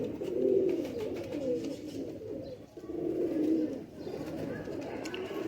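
Faqeer Gul pigeons cooing close by in steady low rolling phrases, two fuller swells of cooing with a brief dip between, over faint background noise.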